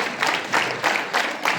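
Schoolchildren at a morning assembly clap together in unison, a short run of loud, rhythmic bursts about a third of a second apart.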